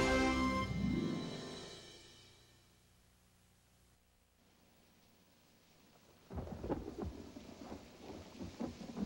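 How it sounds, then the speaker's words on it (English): Rain falls against a window pane, opening with a loud rumble of thunder that fades into a quiet hush, then soft, irregular patter and splashes grow louder toward the end. "watching the raindrops fall from the sky and listen to them pitter-patter against the window pane"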